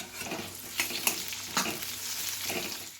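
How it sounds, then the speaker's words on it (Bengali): Lightly browned potatoes frying in oil in a pan sizzle steadily as chopped tomato goes in, with a few scraping stirs of a utensil against the pan over a continuous close frying hiss. "আলুটা হালকা লাল হয়েছে, এবার দিয়ে দেবো টমেটো কুচি"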